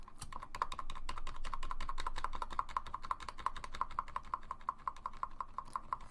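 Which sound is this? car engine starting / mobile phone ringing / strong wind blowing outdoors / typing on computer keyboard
typing on computer keyboard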